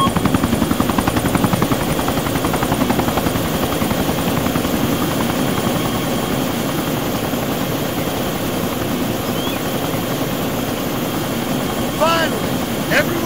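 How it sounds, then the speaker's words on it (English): ArmA 2 military helicopter, a loud, close, continuous rotor chop with a steady engine whine, under brief radio-style voices. "Chopper."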